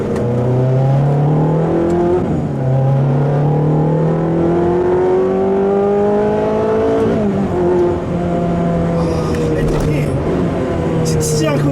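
A Ferrari F430 engine revs up loudly and steadily toward its 8,500 rpm limit, its pitch climbing through gear changes, a sustained sporty roar close by.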